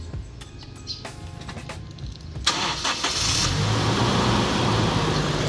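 A Toyota Innova engine cranks and catches after a jump start, with a few clicks and short cranking bursts before the motor fires and settles into a loud steady run, faint birdsong in the background.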